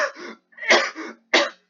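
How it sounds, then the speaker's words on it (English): Three quick, close bursts of harsh coughing, each separated by a brief silence, from a single person with no talk. "I got the real coughs out"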